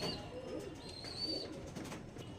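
A Kasira pigeon cooing softly, a faint, low repeated coo against a steady background hum, with no talking.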